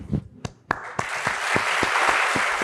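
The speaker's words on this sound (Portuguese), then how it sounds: "A plateia aplaude." An audience applauds as a singer is invited onto the stage. A few sharp claps swell into dense, sustained clapping that fills the room.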